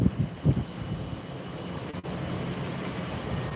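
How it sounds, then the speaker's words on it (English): Boeing 737 in American Airlines One World special livery rolling out at Tampa airport, a steady, moderately loud low engine rumble with a gusty swell early on and a brief dip near the middle. "Here goes American rolling out now."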